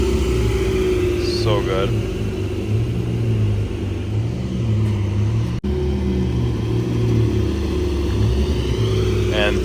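Porsche sports cars rumble and rev as they pull away from a Porsche color gathering, a deep engine drone close by while people chat over it and a brief whistle cuts through.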